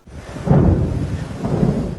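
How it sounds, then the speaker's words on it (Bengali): A thunderstorm in Narsingdi, Bangladesh, with a loud low rumble of thunder rolling over steady rain, close and without voices. "বজ্রসহ বৃষ্টি হয়েছে নরসিংদীর সদর শেখেরচর পাঁচদোনাতেও"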